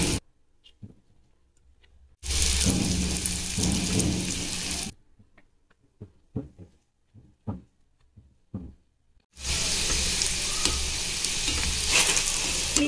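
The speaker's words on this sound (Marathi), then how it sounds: "मी अजून मोदक टाकले याच्यामध्ये तेलामध्ये। आता आपण हे हलवून घेऊया।" Fried modaks in hot oil being stirred, two long loud bursts of close, crackling sizzle separated by a quieter stretch of scattered clicks and taps from the stirring utensil.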